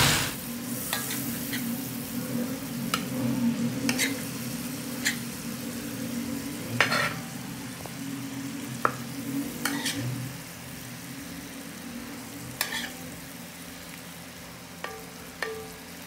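Chicken cooking on a tawa griddle gives a steady close sizzle and frying hiss, broken by scattered clicks and scrapes of stirring, with no voices.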